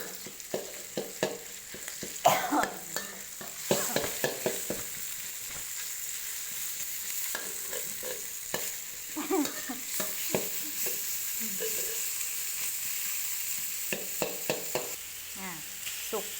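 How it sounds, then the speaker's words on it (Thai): Pork and garlic frying in a pan for a stir-fried long eggplant dish, a steady sizzle with repeated scraping and stirring clatter of a spatula throughout, close and fairly loud, with no voices. "หอมได้ที่แล้วกระเทียมหอมได้ที่แล้วจ้า เอาหมูลงไปเลย"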